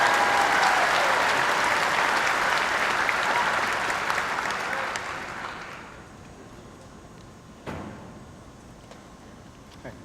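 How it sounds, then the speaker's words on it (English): A crowd applauds at a 2019 Presbyterian College arts and sciences commencement, a loud, dense roar of clapping that holds for about five seconds, then fades away to a quiet room with a single thump. "Give Lance a round of applause."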